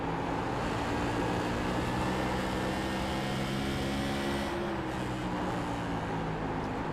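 Tour modified race cars lap at Five Flags in iRacing, a loud, continuous, throaty engine roar on big tires that holds steady with slight pitch shifts as the car works through the corners.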